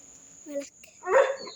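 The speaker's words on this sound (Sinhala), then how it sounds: "අර බල්ලගේ එයා කෑ ගහනවා" A dog gives two short barks, the second louder and harsher, nearby in a quiet village setting.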